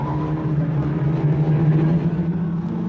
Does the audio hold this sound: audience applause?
no